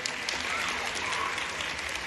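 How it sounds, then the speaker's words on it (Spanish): Sustained applause from an audience of students at a school oath ceremony at the IE Francisco Bolognesi in Casa Grande, dense steady clapping filling the whole moment at moderate distance. "un aplauso para su institución educativa, Francisco Bolognesi"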